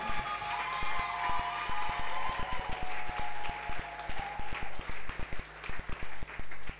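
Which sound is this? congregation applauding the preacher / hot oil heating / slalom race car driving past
congregation applauding the preacher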